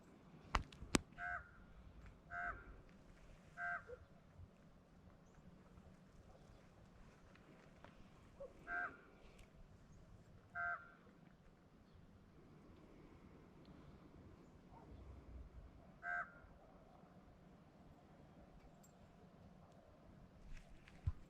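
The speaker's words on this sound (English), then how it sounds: "That is a raven. That is not a natural raven call." A raven gives repeated, unusually high-pitched calls at a distance, several short separate cries spaced irregularly over steady outdoor background noise at sunrise.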